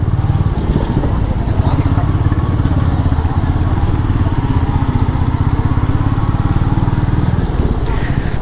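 A Royal Enfield Meteor motorcycle engine runs close by with a loud, steady, rapid thumping pulse that holds an even rhythm throughout.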